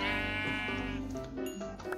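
Sheep bleating in a Minecraft-style video game world, a loud, close, drawn-out wavering bleat repeated across the moment with no talk over it.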